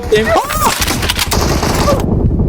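Bursts of rapid gunfire in PUBG Mobile, loud and close, with overlapping shots and booming reports packed into a couple of seconds, followed by a sudden cutoff.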